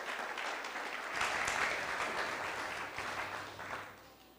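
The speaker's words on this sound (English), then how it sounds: "Come on, everybody. Applaud, applaud." A small audience gives a faint, distant round of clapping at a casual live storytelling show. It swells after the first second, then slowly thins out toward the end.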